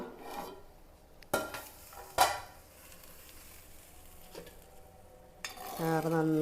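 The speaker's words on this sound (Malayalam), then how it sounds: "നന്നായിട്ട് വെട്ടി തിളച്ചിട്ടുണ്ട്" Fish curry gravy made with tamarind water bubbles and sizzles steadily in a pan, broken by a few sharp spoon-against-pan clanks and a brief ringing tone at the end.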